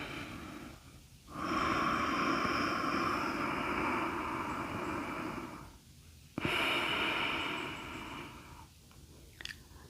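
Slow yoga breaths during a breathing exercise, two long sustained breathy stretches separated by pauses of near silence, close and steady with no talking.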